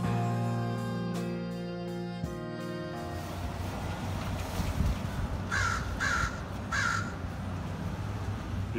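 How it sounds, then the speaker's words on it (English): A raven gives three hoarse caws in quick succession, fairly clear over steady background noise, after a few seconds of sustained tonal sound. "Did you hear what that raven said?"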